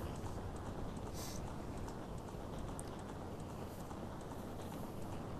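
Horse hooves gallop in Zelda: Ocarina of Time as a man from Link's dream rides by, a steady, continuous clip-clop that stays dense and unbroken under a constant wash of game sound.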